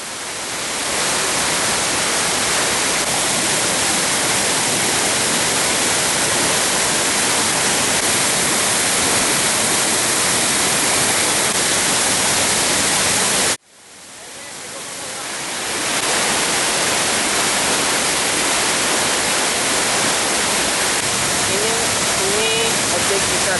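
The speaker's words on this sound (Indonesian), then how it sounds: "Ini objek wisata air terjun Desa Tabaremanik. Ketinggiannya lebih kurang 70 meter lah." A roaring curtain of water from the Curug waterfall, about 70 meters high, at Musi Rawas, a loud constant rush heard up close, broken briefly by a short cut before the roar resumes.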